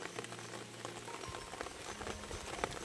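Heavy rain falls steadily on leafy ground and surfaces in a Konkan garden, a dense continuous patter with scattered sharper drops, moderately loud and unbroken, no voices.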